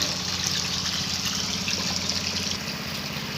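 Water trickles and drips at the edge of a concrete catfish pond, a steady close splashing flow that is loud and continuous with no voices over it.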